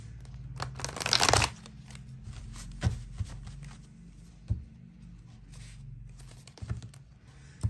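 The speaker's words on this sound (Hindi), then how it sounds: "पुराने इस डेक से भी हम कुछ कार्ड्स लेंगे" Tarot cards from an old deck shuffled and handled up close, with soft riffling and flicking bursts, a louder rustle early on and scattered taps and slides afterward.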